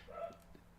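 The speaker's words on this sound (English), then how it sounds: "Sneakers, you need to stop barking at everything up there, puppy" Sneakers the puppy gives a single short, faint bark, a brief yip against a quiet background, heard from the video game Fallout.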